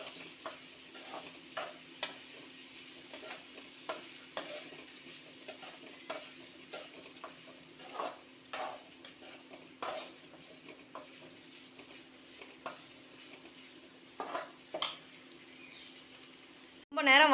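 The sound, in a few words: sautéing green chili and ginger in a pan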